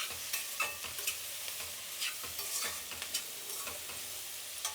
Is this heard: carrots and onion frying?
yes